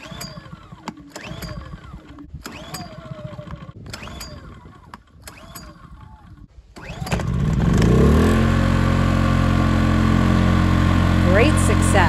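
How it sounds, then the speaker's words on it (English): An Ai Power SUA2300i inverter generator, cold and started for the first time with the choke on: rustling handling noises and a voice come first, then the engine catches and settles into a loud, steady running drone. "since we're starting this engine for the first time and the engine is cold"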